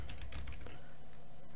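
Typing on a computer keyboard, a dense run of quick clicks close to the mic for under two seconds with a low steady hum underneath and no voices.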